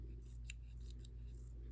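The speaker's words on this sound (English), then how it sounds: "So I just keep moving my scissors and keep that angle going" Scissors snipping paper or a feather to shape a feather flower at a craft table, a few soft, close, crisp snips spread over under two seconds against a low hum, with no talking.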